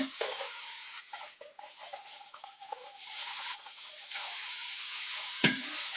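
Beetroot puri frying in hot oil, a soft, steady sizzle and bubbling heard close up at low volume, with faint scraping and one brief clatter near the end.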